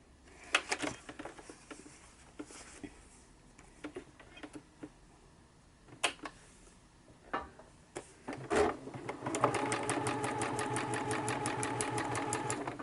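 A sewing machine stitching through paper tickets, first scattered clicks and taps of handling and positioning, then a steady, rapid mechanical rattle of stitching that runs close and loud to the end.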